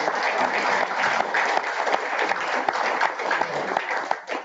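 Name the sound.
audience round of applause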